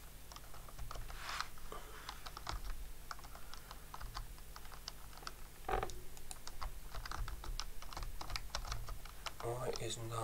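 Computer keyboard typing while playing the game Cranes, a steady run of clicky keystrokes with irregular rhythm over a low background hum, close and moderately loud.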